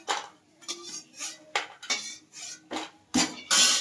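Fried lentil dumplings are lifted out of a pan, with a series of sharp metallic scrapes and clinks of a utensil against the pan, repeated about eight times in an irregular rhythm.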